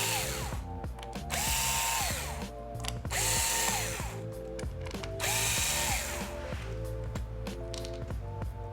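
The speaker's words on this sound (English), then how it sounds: "unscrew the screws that are holding in the battery" Small electric screwdriver backing out the battery screws of an HP Chromebook 14 G6 laptop, repeated whirring bursts with brief ratcheting pauses, close and quiet, no talk.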